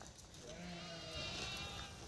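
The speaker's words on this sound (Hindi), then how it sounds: "एक साथ इतनी सारी भेड़िया" A flock of sheep bleats outside a house, a few faint overlapping bleats heard from a distance over steady outdoor background noise.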